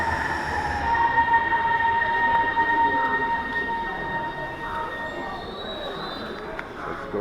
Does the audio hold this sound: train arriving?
yes